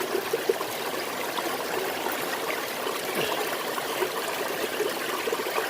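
River water rushes and splashes steadily in rough flow, a constant close-up sound with small bubbling bursts throughout.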